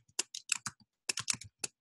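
Keys on a computer keyboard clack crisply and close up as numbers are typed into a design program's text box, two quick bursts of taps with a short pause between them and no talk.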